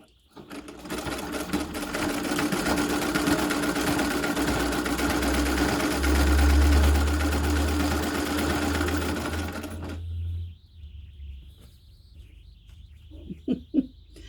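A treadle sewing machine stitches a nine-patch quilt block with a fast, steady mechanical clatter for about ten seconds, then stops. Faint chirps and light taps follow.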